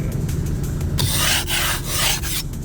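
Ice scraper rasping frost off a car window, a few short close scrapes followed by a longer run of harsh, loud strokes in a quick rhythm.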